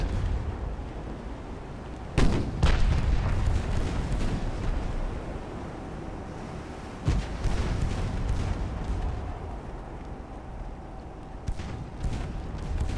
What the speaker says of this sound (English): Shooting away, let's get another 6-inch salvo at least